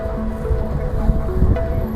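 Wind rushes steadily on the Rama 9 bridge in Bangkok, a broad continuous roar buffeting the microphone, with faint tones and low rumble underneath.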